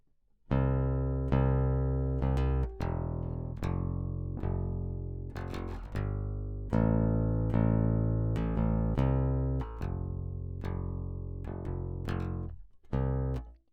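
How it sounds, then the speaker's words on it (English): Plucked bass guitar notes in a steady picking pattern, each note ringing then cut off, played alone and close for the whole stretch. "But the picking pattern will sound like this, using the same exact notes."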